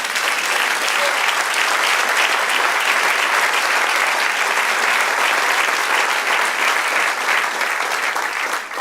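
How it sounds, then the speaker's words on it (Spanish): A church congregation gives steady, sustained applause for the Lord, a dense even wash of many hands clapping alone for the full stretch with no talk over it. "Den un aplauso al Señor."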